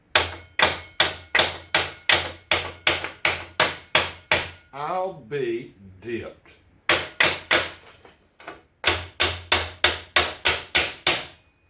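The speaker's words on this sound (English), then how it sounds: "Get your brand new brass hammer." A brand new brass hammer strikes a stuck metal part on a log splitter with a Briggs and Stratton 5 HP engine, sharp evenly spaced blows in rapid runs broken by a short spoken remark and pauses.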